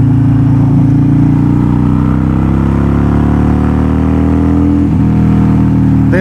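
Harley-Davidson Sportster motorcycle fitted with a fork brace, its engine droning loud and close in a deep, steady rumble that climbs gradually in pitch as it accelerates, with no voices.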